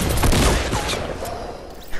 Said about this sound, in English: Oh, that's a minigun.